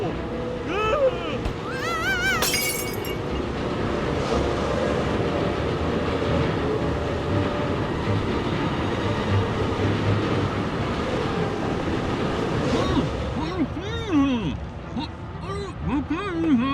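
Train rolling steadily along in a Forgotton Anne cutscene, its brakes dismantled by rebels; a continuous rumbling clatter fills the whole stretch, loud and close, with voices and musical tones layered over it.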